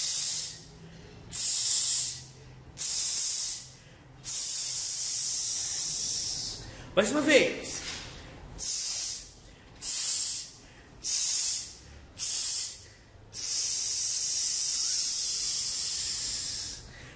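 A voice imitates a pump inflating a small flat tire during a choir warm-up, with a dozen breathy, hissing bursts in a steady rhythm, one longer final push, and a brief spoken remark in the middle.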